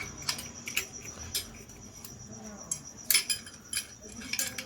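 A steel plate goes into a Yamaha FZ V3 BS6 motorcycle clutch assembly, with a string of light metallic clinks and taps at irregular intervals, close up, and a voice speaking softly.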